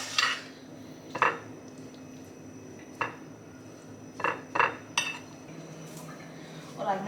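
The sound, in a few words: mixing taco filling with salt, black pepper, oregano, chili powder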